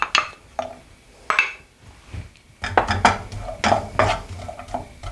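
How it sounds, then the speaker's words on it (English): Onions tipped into a cooking pan at home, with clattering metal cookware, utensil scrapes and clinks in a few close bursts, followed by a louder stretch of stirring and rattling against the pan. "I'm gonna dump in my onions first"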